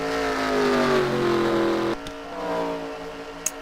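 Race car engines in a video game race as a car pulls out of the pits, a loud, steady engine whine that dips to a lower hum partway through.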